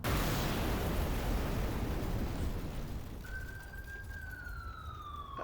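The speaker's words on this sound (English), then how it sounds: "Here comes the explosion." A loud, roaring explosion from the Old Skies video game fills the space with broadband rumble that slowly fades, while a sharp rising siren-like tone enters near the end.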